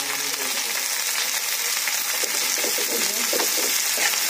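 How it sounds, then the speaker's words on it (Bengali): Chopped onion and chilli fry in hot oil in a home kitchen, giving a steady, loud, hissing sizzle with faint stirring scrapes throughout and no talking. "আর এবার দিয়ে দেবো পেঁয়াজ কুচনোটা"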